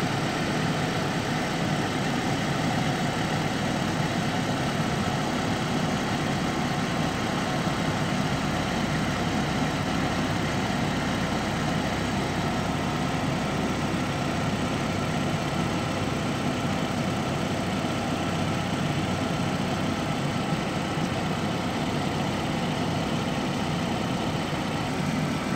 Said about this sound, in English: once that's done, we'll start the vehicle.